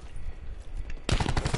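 Automatic gunfire in a first-person shooter video game breaks out suddenly after a near-silent stretch, a rapid, loud burst of closely spaced shots.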